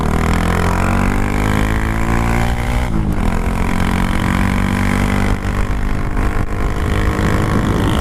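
A Honda Grom motorcycle fitted with a 17-tooth sprocket, held wide open in third gear, its engine note climbing steadily with a brief dip near the middle. The sound is loud, close and droning, with wind buffeting.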